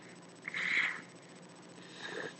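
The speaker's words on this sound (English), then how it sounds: "Sorry if you see me blowing my nose." A person blows their nose twice, a short close nasal honk followed by a fainter second blow, with no talk over it.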